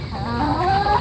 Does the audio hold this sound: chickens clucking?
yes